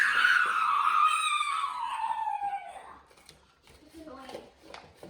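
A child lets out a long, loud, high-pitched screech that slides downward and fades, followed by quieter voices and small noises nearby.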